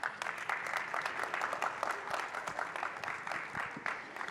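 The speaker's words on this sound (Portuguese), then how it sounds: "Obrigado pelas palmas aí." A conference audience applauds, producing continuous, even clapping from a crowd indoors, moderately distant, lasting the whole stretch.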